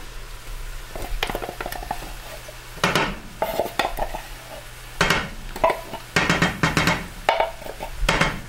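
Kidney beans fry in chili over high heat, with a low sizzle under repeated scraping and clanking of a spoon against the pan in uneven bursts, loud and close.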